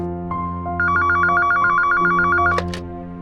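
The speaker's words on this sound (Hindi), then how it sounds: "फोन उठा।" A telephone rings in a domestic drama scene, a steady electronic ring repeating in bursts over a low background tone, loud and close, with no talk over it.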